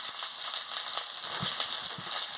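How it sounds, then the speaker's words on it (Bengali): Gima greens and potatoes fry in oil with turmeric and salt, a steady close sizzle with soft thuds and scrapes from stirring, no one talking. "ভালো করে ভেজে নিচ্ছি"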